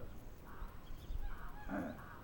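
Geese honking outdoors at a moderate distance, a few short nasal honks rising out of a faint, noisy background, with a louder burst of calls near the end.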